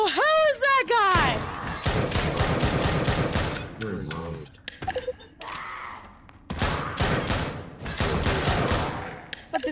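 Gunfire in the zombie video game Drop Dead: Dual Strike Edition, dense volleys of rapid shots with sharp swooping effects at the start, continuing loudly with brief lulls while voices talk over the action.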